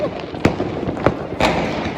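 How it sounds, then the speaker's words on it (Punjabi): Firecrackers go off during Diwali celebrations, three sharp distinct bangs spaced about half a second apart over a low background murmur. "ਲੋ ਜੀ ਪਟਾਕੇ ਚਲਾ ਲਏ ਆ"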